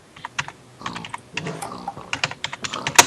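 Quick bursts of keystrokes on a computer keyboard as an admin command is typed into a game chat, irregular clicks with a louder final key strike, close and alone.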